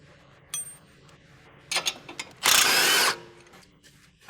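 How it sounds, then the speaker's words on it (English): A wrench and socket loosen the lower strut bolt on a Honda Civic 1.8L coupe, giving a few sharp metallic clicks and then a dense half-second ratcheting burst, close and alone with no talk. "Use a 19mm wrench with a 17mm socket to remove the other lower strut bolt."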